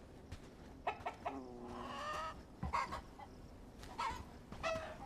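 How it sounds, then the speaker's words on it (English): Chickens in the medieval village game Bellwright cluck softly, with several short calls and one drawn-out squawk at a distance over faint background ambience. "Can't seem to produce enough eggs. I don't know. It's because there's so little chickens."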